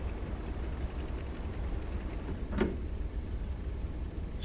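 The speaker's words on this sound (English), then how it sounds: "Still hear those engines." Junkers Ju-52 radial engines running in Microsoft Flight Simulator 2020, a steady low droning rumble that holds even throughout, with a brief sharp click partway through.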